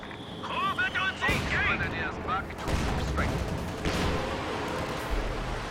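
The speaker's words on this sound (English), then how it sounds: "Katyusha firing" Katyusha rocket artillery firing in Company of Heroes 2, a dense roaring barrage of launches and blasts rolling on for several seconds, loud and close, with shrill whistling streaks early on and a voice talking over it.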